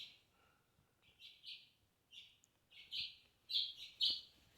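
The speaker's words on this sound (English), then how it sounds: "I think they're finches," Finches chirp indoors in a quiet room, giving short bright tweets in irregular bursts that grow louder and more frequent toward the end, close by and with no talk.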